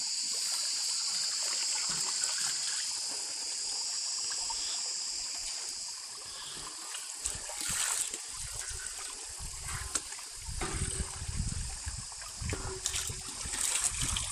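Water running off a washed mat beside a stream, a steady gushing trickle at first, then splashier, uneven rushing and dribbling toward the end, close by.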